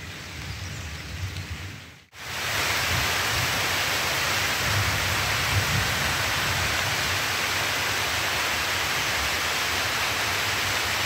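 Heavy, steady rain hisses continuously, close and loud, after a brief cut near the start; no voices.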